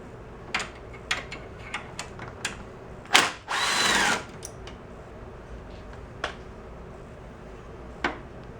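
Power tool loosening 7/16 nuts from the drive disc of an Ariens snowblower: a string of short sharp impact bursts and one longer whirring run of about a second, close and fairly loud, no voices.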